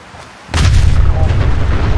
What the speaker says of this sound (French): une deuxième explosion